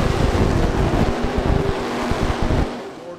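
Dirt track race cars at Bubba Raceway Park in Ocala roar off at the start of a NeSmith championship race, a dense, loud engine rumble mixed with wind buffeting that fades slightly near the end.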